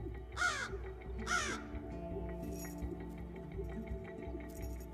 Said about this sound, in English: Crows have different warning calls, one for cats and one for hawks and another for humans.